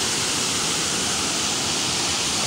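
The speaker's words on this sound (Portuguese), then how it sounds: "cachoeira também ali, gente" Constant roaring rush of falling water, broad and steady with no breaks, loud and close.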